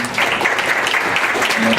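A tech meetup audience gives a loud, close round of applause for an event sponsor's team, a dense steady clapping that fills the whole short moment.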